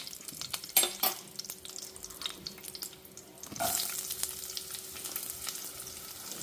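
Onion and green chillies frying with curry leaves in a hot pan give a steady sizzling hiss, with a few utensil clinks early on and a louder, fuller sizzle once fresh ingredients drop in partway through.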